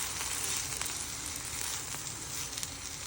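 An egg omelette frying in a pan gives a steady, close, bright sizzle and crackle that continues evenly throughout, with no voices.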